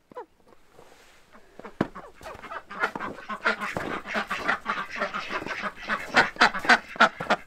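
Ducks quack repeatedly in rapid, overlapping bursts, growing busier and louder toward the end, close by with a soft outdoor background.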